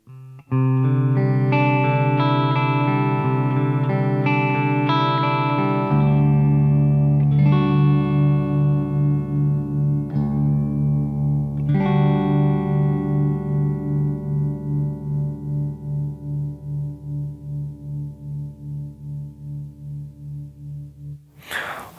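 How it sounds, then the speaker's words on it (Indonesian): A Schecter Solo II Supreme electric guitar with Lundgren pickups rings out in distorted chords, then one note sustains long with a slowly wavering, faintly feeding-back tail before an abrupt stop. "Lu denger, ada kayak feedback tipis di belakang tuh,"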